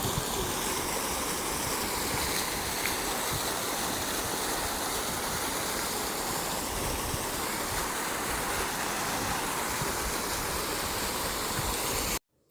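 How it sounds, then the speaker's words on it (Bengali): A steady stream of flowing water rushes without pause outdoors in Madrid, loud and close, a constant broad wash that stops abruptly at the very end, with no voices. "ইস, পানির শব্দটা এত ভাল লাগে।"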